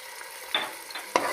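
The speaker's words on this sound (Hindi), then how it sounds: "इसको थोड़ा मैं फ्राई कर लूँगा, इसका कच्चापन ख़त्म हो जाएगा" Ginger-garlic paste fries in oil in a pan at close range: a quiet sizzle with three brief stirring scrapes, and no speech.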